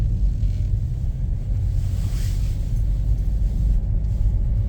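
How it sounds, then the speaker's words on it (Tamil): A lorry driving past on a road in western Norway between Arna and Haugesund, a steady deep rumble mixed with wind noise that swells briefly in the middle as it goes by. "இந்த லோரி கொண்டு போகுது."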